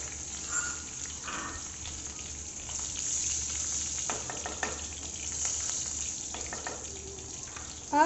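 Curry leaves and green chilies crackle in hot oil with asafoetida while cooking toor dal khichdi, giving a soft, continuous frying hiss with scattered pops and light stirring, fairly quiet.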